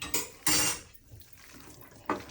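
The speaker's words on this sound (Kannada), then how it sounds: "ಪುದೀನ ಹಾಕ್ಕೋತಾ ಇದ್ದೀನಿ, ಮತ್ತು ಕೊತ್ತಂಬರಿ. ಚೆನ್ನಾಗಿ ಮಿಕ್ಸ್ ಮಾಡ್ಕೊಳ್ಳೋಣ." Mint and coriander stirred in a cooking pan, three quick scraping clatters of a utensil against the metal with quiet gaps between.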